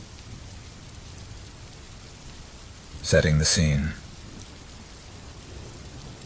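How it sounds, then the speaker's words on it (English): Light rain falls in a continuous, even hiss with soft pattering, while a voice speaks briefly midway over it. "The rain begins to fall lightly, creating a rhythm that accompanies the narrative."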